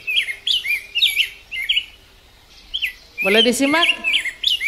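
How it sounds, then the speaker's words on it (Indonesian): Small birds chirp and tweet in quick repeated bursts throughout, with a brief quiet gap midway, while a person speaks over the later part. "Itu suara burung."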